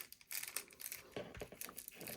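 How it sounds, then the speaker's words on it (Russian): Continuous plastic crinkling and rustling, close and fairly quiet, with small crackles as a thin plastic bag is pulled over a soft tassel. "Все, пакетик я натянула."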